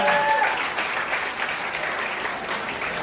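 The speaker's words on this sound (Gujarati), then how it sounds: "તો જોરદાર તાળીઓ." Loud, sustained applause from an audience at a commerce coaching institute's 18th-anniversary annual function, dense clapping filling the room evenly throughout, with faint voices underneath.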